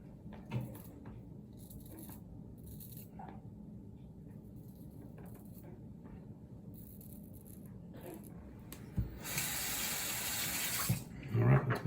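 Tap water runs into a sink to rinse off after a safety razor shave, a steady broadband gush starting late and continuing to the end, preceded by quieter handling and faint bathroom movement.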